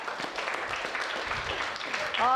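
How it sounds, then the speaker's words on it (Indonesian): A crowd at an Indonesian stand-up comedy show bursts into applause, a steady dense clatter of clapping mixed with some voices, ending with a brief whistle-like rising tone. "Iya, tepuk tangan."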